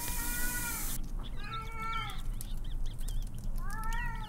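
A cat meows three times in the video game Erie, drawn-out and plaintive, with pauses between, over a steady low background hum.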